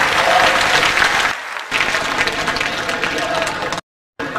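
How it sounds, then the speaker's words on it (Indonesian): A live comedy show crowd applauds a pair of political figures, a dense and loud burst of clapping with voices mixed in that dips briefly and then cuts out near the end. "kita akan tampilkan tepuk tangan buat Bapak Amin Rais dan Saryawan Hamid"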